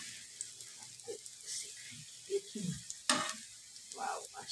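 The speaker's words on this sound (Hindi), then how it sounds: "इनको शेलो फ्राई करना है, डीप फ्राई नहीं करना" Potato fries shallow-frying in oil for crispy French fries give a soft, steady sizzle with occasional stirring scrapes and light pops, quiet and close.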